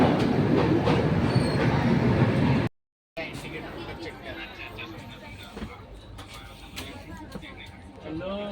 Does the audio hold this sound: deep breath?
no